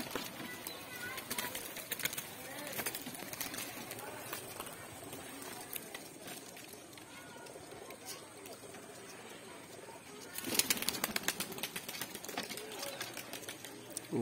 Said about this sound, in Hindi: इसलिए कबूतर को नहीं उड़ाना है, फिर भी अपने आप में ये उड़ने लगते हैं